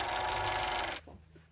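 A sewing machine stitches fabric bunting in a steady, close mechanical whir that stops abruptly partway through, leaving a quiet room.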